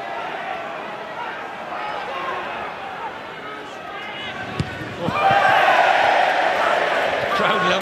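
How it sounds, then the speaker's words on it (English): A rugby crowd cheers at a PRO12 match between Cardiff Blues and Connacht, a loud surge of roaring voices that swells suddenly after a thud and holds over a steady stadium murmur. "Crowd loved it."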